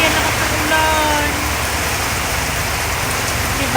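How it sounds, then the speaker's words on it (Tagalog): Heavy typhoon rain pours down in a dense, unbroken roar, loud and constant throughout with no pauses. "Tapos, grabe, lakas ng ulan."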